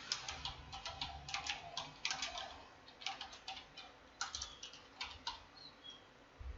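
Fingers tap a computer keyboard in short, irregular bursts of crisp, quiet clicks, close and faint, with no talking.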